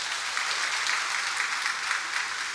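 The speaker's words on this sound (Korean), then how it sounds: "우리 박수 한번 쳐드릴까요?" An audience claps for a company CEO at a corporate presentation, a sustained, evenly loud burst of many hands with no voices over it.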